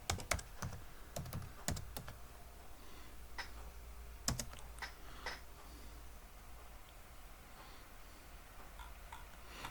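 A password is typed on a computer keyboard: sharp close key clicks in quick bursts and scattered single taps, fading to faint occasional ticks.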